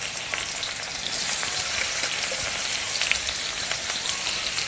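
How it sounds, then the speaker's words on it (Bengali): Chopped onion and bay leaf fry in hot oil for a chicken curry, a steady, close, even crackling sizzle with faint scattered pops and no voices. "এবার আমি তেলের মধ্যে 1টা বড় সাইজের পেঁয়াজ কুচিয়ে রেখেছিলাম সেটাকে দিয়ে দেব।"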